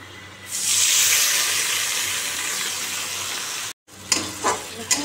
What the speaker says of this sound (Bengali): মশলাটা কষাচ্ছি, এবার আলুটা দিয়ে মশলা কষিয়ে তারপর জল দিয়ে দেবো